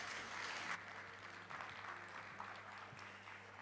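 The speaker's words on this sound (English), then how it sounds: "Kindly give him a round of applause." A conference audience at a keynote session gives a round of applause, steady dense clapping that holds evenly at a moderate distance with no voices over it.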